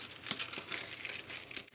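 Wax paper crinkling steadily and close by as polymer clay buttons are pressed, a busy run of papery rustles and crackles with a few sharper crunches, no voices.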